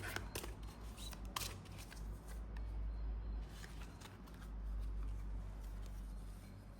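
Tarot cards being cut and shuffled by hand: quick papery riffles and flicks close up in the first seconds, followed by softer handling over a low steady background hum.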